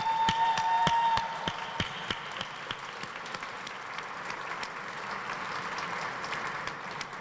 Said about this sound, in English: I would like to give them applause